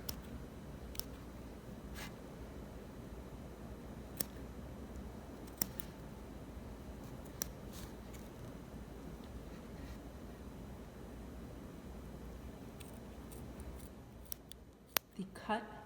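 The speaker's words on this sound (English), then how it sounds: "we will now make a midline incision on the ventral surface of the rat, cutting through both the skin and muscle that cover it." Scissors snipping through the skin and abdominal muscle of a rat during a midline ventral incision in a dissection, heard as faint, sparse clicks over a steady low background hum, with a couple of sharper snips near the end.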